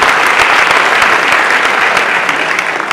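An audience at a Digital Institute 2019 talk claps steadily and loudly for a few seconds, a dense, even wash of many hands with no voices on top.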